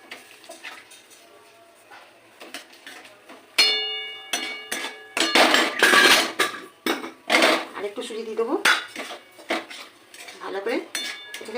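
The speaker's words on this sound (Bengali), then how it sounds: "দুধ দিয়ে নাড়াচাড়া করতে করতে আমি একটু সুজি দেবো" A spoon clinks and scrapes against a pan while grated carrot, milk and semolina are stirred together, giving irregular metallic knocks that grow busier and louder partway through.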